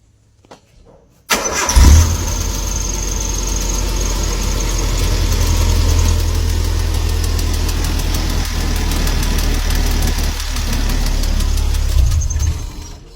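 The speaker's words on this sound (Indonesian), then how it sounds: "Nih, dengarkan ya, ini saya hidupkan mesinnya nih." A car engine with heavy internal damage from neglected oil cranks and fires after a brief pause, then idles steadily and loudly up close, a rapid metallic ticking knock running through the idle.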